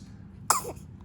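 A one-month-old baby lets out a single short, sharp sneeze, soft and close in an otherwise quiet room.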